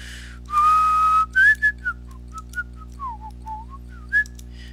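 A person whistles, first one long held note, then a string of short chirpy notes sliding up and down, loud and close over a low steady hum.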